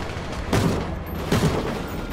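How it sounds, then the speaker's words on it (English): A grenade explosion rumbles in Call of Duty Ghosts, with two heavy low booms about a second apart, loud and close over constant battle noise. "Oh, grenade. Watch the grenade."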